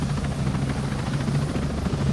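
Helicopter flying in the video game Ghost Recon Breakpoint, a continuous loud rotor thrum with steady low chopping pulses and engine whine, close by and unbroken with no talk over it.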